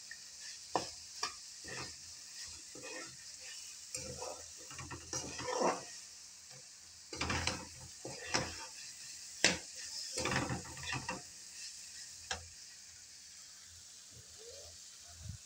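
Soybean chunks and vegetables stir-frying in a pan, with a steady sizzle under repeated scraping and stirring strokes of a spatula against the metal, close and fairly loud, no voices.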